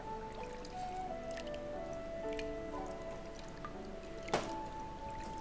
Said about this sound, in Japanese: ボウルで洗います